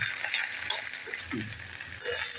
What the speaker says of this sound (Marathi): आता तेल तापलेलं आहे आणि आता आपण भेंडी फ्राय करून घेऊया